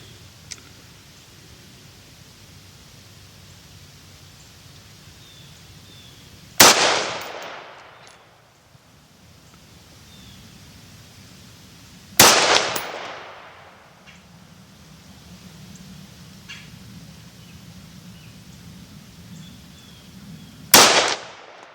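Three loud, sharp gunshots from a Springfield Armory Hellion rifle fired at a target, spaced several seconds apart, each trailing off in a brief echo over quiet outdoor background.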